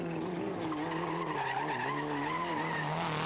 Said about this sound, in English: and sliding the Toyota around nicely, Sergio Pianazzola, still working his way up